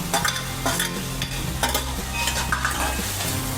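Chopped tomatoes tipped into onions browning in a hot pan for Indore-style steamed poha, stirred with a spoon: repeated scraping strokes over a continuous close sizzle, with no voices.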